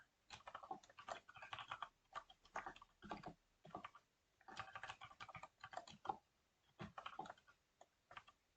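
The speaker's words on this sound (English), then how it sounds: "I'm using mechanical keyboard." Rapid typing on a mechanical keyboard: bursts of crisp, clattering key clicks in uneven runs with short pauses between, close and fairly quiet, with no talking.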